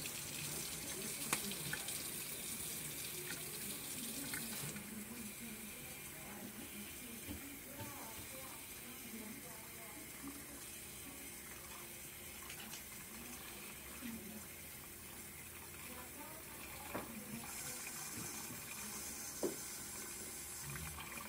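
A water tap runs steadily, filling an enema bag with lukewarm water; the moderate splashing flow continues for about twenty seconds at close range.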